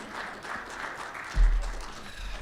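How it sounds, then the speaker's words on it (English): An audience at a military logistics awards ceremony gives brief, moderate applause for a general introduced as co-host, with a low thump partway through as the clapping continues. "Round of applause, please, for Chuck."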